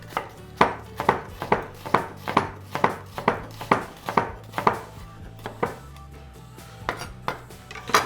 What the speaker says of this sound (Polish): Cebulę kroję w pół półplasterki.